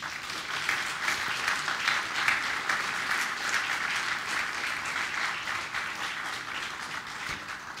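An audience at an award ceremony for the Janusz Kurtyka prizes applauds a professor receiving an award for his book, steady and even clapping from many hands, filling the hall without letup.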